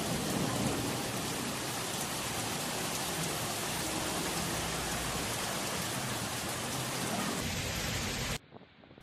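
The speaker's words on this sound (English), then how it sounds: "torrential rain caused flash floods" Torrential rain from a Barcelona storm pours steadily in a dense, even roar of drops hitting surfaces, then cuts off abruptly near the end.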